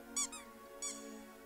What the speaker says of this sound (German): Ein bisschen mit der Quietsche-Ente spielen